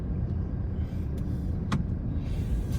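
Cars stuck in a Bangkok traffic jam near Phaya Thai idle as a steady low engine rumble, with a few brief sharp clicks and a hiss standing out above the drone.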